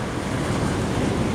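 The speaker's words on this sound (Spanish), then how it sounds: "Uy, cuidado con las olas, muchachos." Sea waves wash and break around a small fishing boat out on the water, a steady, loud roar of surf and wind noise with no talking.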